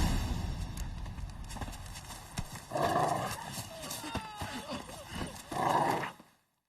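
In a video game, the horse Roach trots with rhythmic clip-clop hoofbeats, joined by whinny-like bursts and faint ambient noise, the steps fairly close and steady before fading out at the end.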